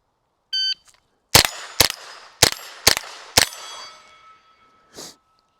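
Rimfire rifle shots on a steel challenge course, five sharp cracks at a steady cadence, each followed by a ringing metallic ping from steel targets, preceded by a short electronic start beep and ending with one more soft impact.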